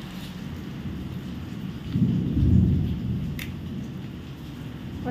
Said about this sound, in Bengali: চলো বৃষ্টি হোক